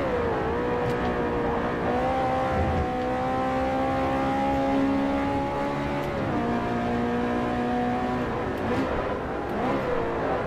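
Race car engine in Forza Motorsport 4, S-Class multi-class event, revving hard and continuously with rising pitch sweeps between upshifts, loud and steady throughout.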